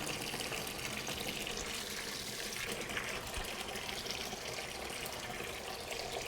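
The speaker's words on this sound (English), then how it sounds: "So we're just filling this up again for another rinse" Tap water running steadily into a container for a cold rinse while washing a wood duck skin during taxidermy, a continuous, fairly quiet splashing hiss with no voices.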